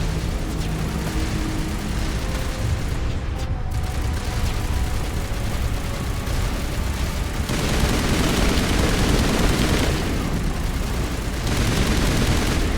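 Turret fire and rocket blasts in the Mass Effect video game, a dense, continuous barrage of rapid shots and booming impacts that briefly dips and then swells louder, with no voices.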